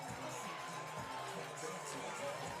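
A high school football crowd roars and cheers after a sack, a steady dense wall of voices and shouts from the stands, with an announcer's voice running underneath.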